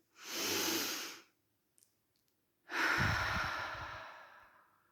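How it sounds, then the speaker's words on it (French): Two deep breaths, each drawn in through the nose and a long airy exhale out the mouth, the second louder and rougher with a low rumble, separated by a short quiet pause. "On inspire par le nez et on souffle par la bouche"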